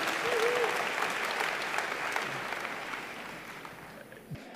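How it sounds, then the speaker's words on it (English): A room full of audience members applauds, a steady wash of clapping that gradually fades toward the end, with a brief voice at the start. "I think that deserves a round of applause right away."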